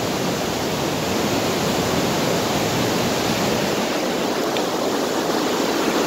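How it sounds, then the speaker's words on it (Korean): Montmorency Falls near Quebec City, Canada, a steady, dense roar of rushing water pouring down, loud and constant with no voices over it. "지금 폭포수가 힘차게 흘러내리고 있고요"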